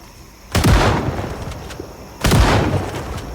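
Two heavy shotgun blasts in Project Zomboid, fired at zombies about two seconds apart. Each is a loud, close boom that decays slowly, with no voice over it.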